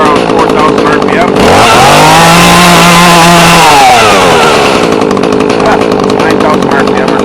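A GoPed scooter fitted with a chainsaw motor buzzes at a high idle, then revs up sharply into a loud screaming whine, holds there and drops back to idle. It is very close and loud.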